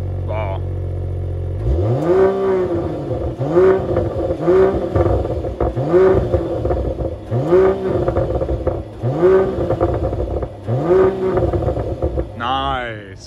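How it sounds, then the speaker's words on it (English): A 2020 Mercedes-AMG GLE53 Coupe with performance exhaust in Sport Plus mode revs hard, about seven loud rising-and-falling rev blips in steady rhythm after an idle, with a voice faintly underneath. "there's a big difference between Comfort and Sport Plus due to the performance exhaust here"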